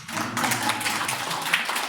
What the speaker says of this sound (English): Give yourself a clap lah.